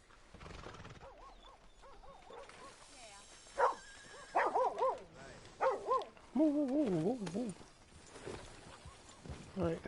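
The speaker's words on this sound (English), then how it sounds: "This little dog, he always comes up to me." Small dog in Red Dead Redemption 2 barking near the player amid a horse's whinnies and clip-clopping hooves, with someone talking over the sounds.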